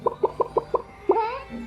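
A person imitates a rooster: five quick, evenly spaced clucks, then a rising, drawn-out crow, close and loud.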